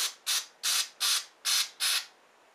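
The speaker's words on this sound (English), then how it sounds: "You want to spray down these little holes too." Six short, evenly spaced bursts of carburetor cleaner spray hiss into a Briggs and Stratton Flo-Jet carburetor, close and fairly loud, with quiet gaps between each.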